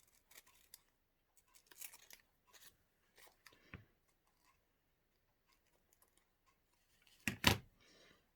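Scissors snip washi tape in a few quiet, separate cuts with soft handling rustles between them, ending in one louder, sharper snip and rustle.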